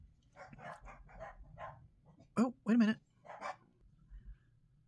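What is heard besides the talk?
dog barking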